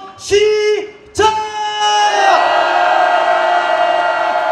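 Protesters at a candlelight rally in Gwangju raise a loud collective shout, two short bursts followed by a long sustained roar of many voices, close and forceful.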